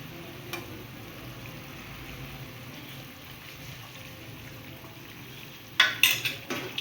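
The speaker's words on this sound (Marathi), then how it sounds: "आता हे असं आपण उकळू द्यायचं." Mutton kardai gravy simmers in a pot with a low, steady bubbling hiss throughout, ending in a few sharp metallic clinks of a spoon against the pot.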